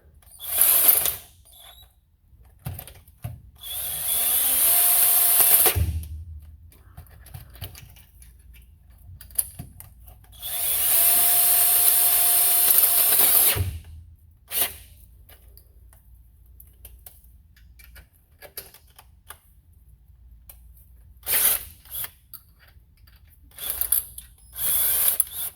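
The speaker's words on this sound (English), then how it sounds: "So that's the down and dirty for drilling in there." A power drill bores out the damaged threads of an oil drain plug hole for a Time Sert repair, running in two long, steady whining bursts of several seconds each, followed by shorter clicks and brief spurts of the tool.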